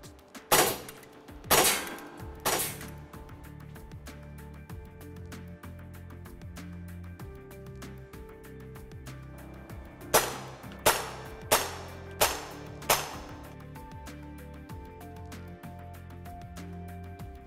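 An Umarex Glock 17 Gen3 CO2 blowback .177 BB pistol fires at a target: three sharp shots in quick succession, then a pause, and later a faster string of five shots, each crisp and close over a steady low background hum.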